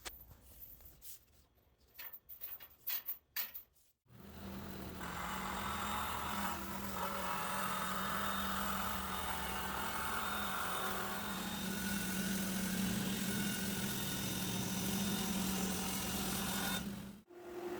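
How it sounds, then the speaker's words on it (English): A bandsaw runs steadily through plywood, making a sustained, even whine and rasp that lasts for more than ten seconds. A few scattered knocks and handling noises come before the cut starts. "Then I'm going to trace the template on top and cut it out with the bandsaw."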